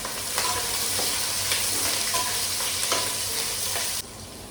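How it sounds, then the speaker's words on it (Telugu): Onions and green chillies frying in a non-stick pan, a loud steady sizzle with periodic stirring strokes that drops away near the end. "నెక్స్ట్ ఉల్లిపాయ పచ్చిమిరపకాయ వేసేస్తాం."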